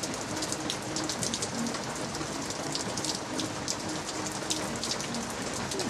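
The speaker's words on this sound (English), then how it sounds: "but it's drizzling" Light rain drizzles steadily outdoors near a Big Green Egg grill under house eaves, a continuous close, even patter with no voices.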